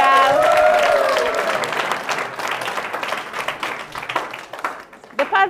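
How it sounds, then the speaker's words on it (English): A school audience at Kerma Senior School claps for a charity initiative, with loud, dense applause at first that slowly thins out, while voices carry over it. "can we clap for Myles of Great Hopes and Dear Black Girl?"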